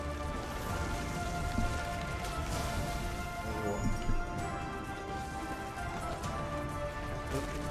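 Hail patters down in the video game Trine 2, a dense, soft, continuous rattle of small impacts at low volume with faint game sounds beneath.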